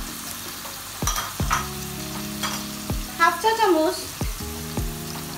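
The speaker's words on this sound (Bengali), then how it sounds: "গরম তেলে 1 বাটি পেঁয়াজ বাটা দিয়ে দিব।" A bowl of onion paste sizzling steadily in hot oil, with occasional utensil knocks against the pan and someone speaking over the frying.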